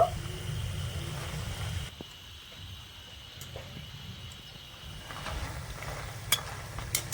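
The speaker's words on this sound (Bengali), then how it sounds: "আমি আরেকটুখানি লাল করে ভেজে নেব" Tulumba sweets frying in hot oil, a steady soft sizzle and bubbling that drops quieter midway and then swells again, close up with no talking.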